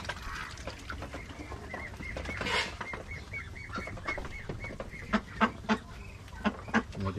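Geese and turkeys at an egg-laying farm call in a noisy flock, with repeated honks and gobbling cries, a cluster of loud near calls toward the end over a steady farmyard murmur.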